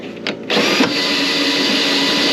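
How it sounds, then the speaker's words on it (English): A power drill runs steadily and loudly, a continuous whirring hum after a brief start-up, used on scrap metal in a workshop. "that drill didn't act like it wanted to zip it up and down as fast as the regular drill"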